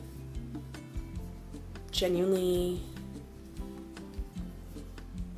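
Interchangeable knitting needles click softly and steadily while knitting in the round, light regular ticks running under a woman's speech.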